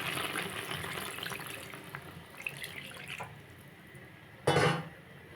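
Water is poured into a pan of crab curry with ridge gourd and potato, a short splashing gush near the end after a few seconds of soft kitchen clatter.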